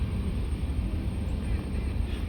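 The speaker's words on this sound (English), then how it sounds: "there's a tiny plane taking off, a private jet's on this runway" A small private jet taking off from a runway produces a steady low rumbling roar, heard from a distance and fairly faint, with no change over the short stretch.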